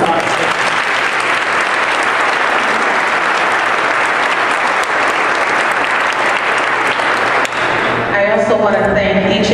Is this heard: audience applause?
yes